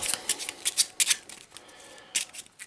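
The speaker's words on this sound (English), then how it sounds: "let's give these a decent shuffle" Cards from an Eldritch Horror board game deck being shuffled by hand, a few sets of quick crisp riffling bursts separated by short pauses, close and fairly quiet, with no one talking.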